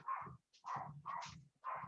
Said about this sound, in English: they just think that they need to bark at everything